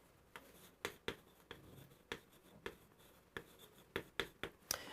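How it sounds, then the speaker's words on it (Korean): Chalk or marker strokes writing a French word on a classroom board, a series of short sharp taps and scratches at an uneven pace, fairly quiet with no talking. "요런 제가 단어를 한번 써볼게요"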